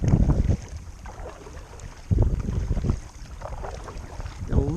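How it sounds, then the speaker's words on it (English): Breeze blowing across a kayak on open water, a steady rush of wind noise with louder gusts hitting the microphone in bursts near the start, middle and end. "Got a little bit of a breeze in our face"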